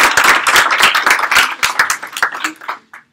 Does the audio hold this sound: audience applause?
yes